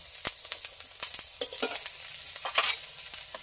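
Onions with ground spice paste of onion, ginger, cumin and coriander fry in a pan for a country chicken curry, a soft continuous sizzle broken by irregular scraping stirs, with no talking.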